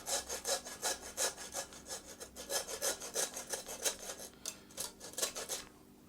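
A hand saw cuts through fallow buck venison bone in a steady back-and-forth rhythm, each stroke a close, rasping scrape that slows and softens toward the end as the blade breaks through.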